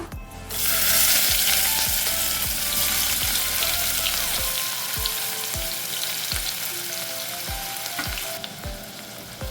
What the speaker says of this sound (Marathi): कांदा चांगला तेलावर परतवून घेऊया